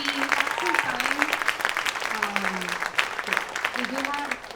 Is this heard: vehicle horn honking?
no